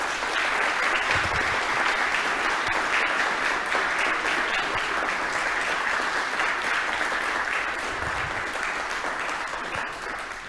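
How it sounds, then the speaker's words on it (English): Sustained, steady applause from an audience cheering award finalists at a territory awards ceremony, full and even throughout, tapering slightly at the very end. "I just want to ask everyone to give you a round of applause as our finalists today."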